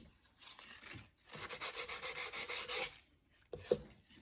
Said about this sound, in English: put a bend on your sandpaper and kind of work that groove that matches the baseboard